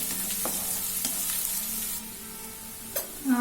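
Ginger-garlic paste sautéing in hot oil, a continuous close hiss of frying with a few light stirring clicks against the pan, no speech.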